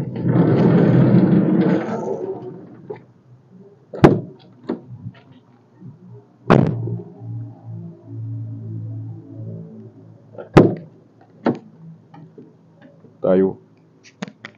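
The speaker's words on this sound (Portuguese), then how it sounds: "Porta fechando tudo certinho, alinhada." The sliding side door of a 2020 Mercedes Sprinter 415 sixteen-seat van is worked shut, giving several sharp, separate thuds and clicks spaced seconds apart after a brief stretch of talk.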